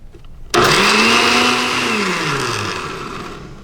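A blender whirs loudly as it mixes heaping spoonfuls of live almond butter into fresh almond milk, starting abruptly and running steadily for several seconds while its pitch gradually sinks under the load.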